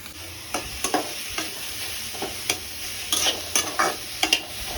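Onion roasting with whole spices in a pan for a crab curry, with repeated scraping stirs of a spatula over a soft background sizzle, nearby and moderately loud, no talk.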